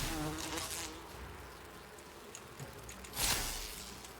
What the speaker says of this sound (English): Listen here, Bee Swarm. I told you to stay off my lawn.